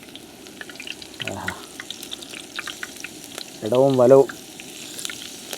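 Curry leaves spread into hot, clean frying oil while preparing a quail fry give a steady, close crackling sizzle that runs throughout, with a short spoken phrase partway through and a louder voice near the end.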